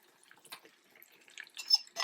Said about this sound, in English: Take your egg, just give it a little bit more, then pour it right into the pan.